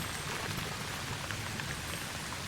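Steady rainfall in the video game False Hero, a dense, even hiss of drops with no change in intensity and no voices.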